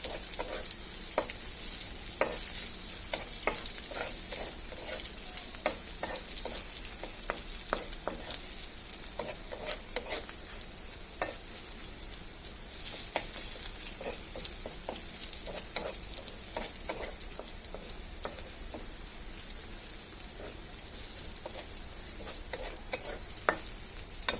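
Garlic fries in oil for kochu shak (taro leaf greens), a continuous soft sizzle broken by frequent scraping and tapping strokes of a stirring spoon, close by and moderately quiet, with no voices.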